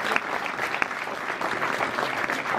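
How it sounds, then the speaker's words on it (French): Audience applause at a school inauguration ceremony, a steady burst of many hands clapping close to the microphone, with a few sharper individual claps standing out and no speech over it. "je crois qu'on peut encore vous applaudir"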